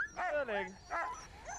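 Greenland sled dogs let out a few short, whining yips and barks in close succession, nearby, with voice-like pitch sweeps over a quiet outdoor background.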